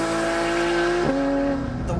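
Porsche 911 GT3 (991) flat-six with PDK gearbox revving hard near its 9,000 rpm limit, a loud sustained howl that climbs, briefly dips at an upshift, then screams up again, close and alone.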